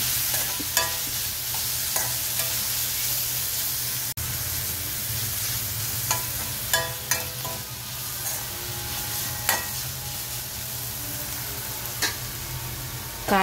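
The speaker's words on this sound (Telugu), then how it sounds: "ఈ పచ్చిమిర్చి పేస్ట్ పచ్చి వాసన పోయే వరకు ఆయిల్లో బాగా ఫ్రై చేసుకోవాలి." Green chili paste frying in hot oil while being stirred, a steady broadband sizzle with repeated scraping strokes of the spatula, close and fairly loud with no voices.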